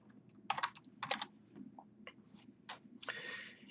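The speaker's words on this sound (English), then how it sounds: "we can go into Wikipedia and we can type in Q13 Fox" Typing on a computer keyboard, with quick clusters of close key clicks and a few separate taps, ending in a longer burst of keystrokes over a quiet low hum.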